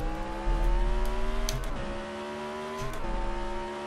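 IndyCar engine from the NASCAR Racing 2003 video game, held at steady part throttle with a continuous buzzing whine that dips briefly and swells again, close and alone.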